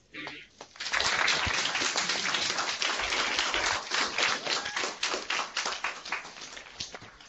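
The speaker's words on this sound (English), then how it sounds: "join me again in a warm round of applause to Pro Football Hall of Famer, Mr. Carl Eller" Warm round of applause for Pro Football Hall of Famer Carl Eller, a dense crowd clapping that starts abruptly after a brief pause and carries on steadily, thinning slightly toward the end.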